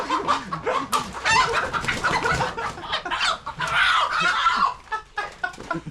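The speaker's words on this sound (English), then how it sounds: "It's the rooster." A rooster in Jamaica making loud, harsh repeated calls, close and agitated, with clucking among the cries and no talk over them.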